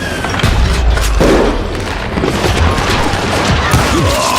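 Loud, rapid gunfire and heavy booms fill a Call of Juarez: Gunslinger shootout, with overlapping shots and thumps running throughout and faint voices mixed underneath.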